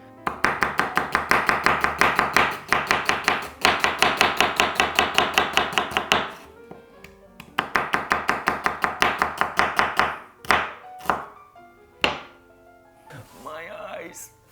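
Knife chopping an onion on a cutting board in fast, even bursts of close, crisp cuts, two long runs separated by a pause, then a few single chops and a brief voice at the end.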